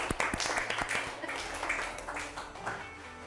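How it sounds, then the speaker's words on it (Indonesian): Schoolchildren in an elementary school classroom clapping for a classmate, a dense burst of applause filling the room with voices mixed in. "kasih tepuk tangan buat temunya"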